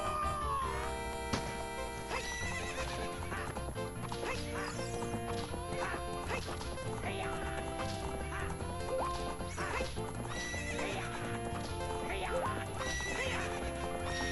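A horse in The Legend of Zelda: Ocarina of Time gallops with steady clip-clop hoofbeats and lets out neighs, mixed with game music and effects and sustained for the whole stretch at a strong level.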